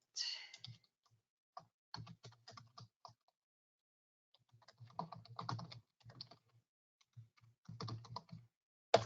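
Typing on a computer keyboard, close and quiet, in irregular bursts of rapid clicks separated by short pauses of near silence.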